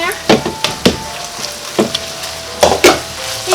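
Red onion fries in a pan for Japanese chicken curry, a close sizzle punctuated by several sharp knocks and scrapes of a utensil against the pan at an uneven rhythm.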